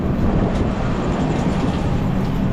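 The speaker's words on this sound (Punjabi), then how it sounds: "ਟ੍ਰੇਨ ਹੀ ਲੱਗਦੀ ਮੈਨੂੰ" A steady low rumble of a train standing at a railway station, constant and fairly loud throughout, with a broad wash of noise and no talking.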